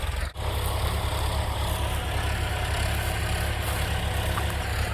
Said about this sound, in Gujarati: વિચાર એવો આવ્યો 2 ટ્રેક્ટર ચાલુ કરી નાખીએ.